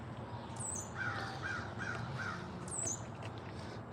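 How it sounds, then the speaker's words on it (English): Wild birds call outdoors on a winter day, a blue jay among them: a run of four quick harsh notes in the middle, with a couple of high squeaky calls before and after, fairly distant over steady background noise. "That's all these birds, man. There's a blue jay."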